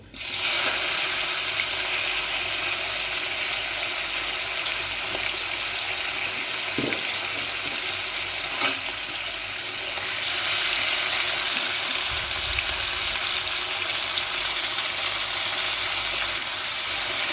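Prawns frying in hot oil for a Bengali prawn malai curry, a loud continuous hiss and crackle held close throughout with no voices.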